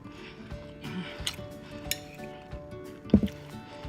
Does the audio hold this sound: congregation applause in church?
no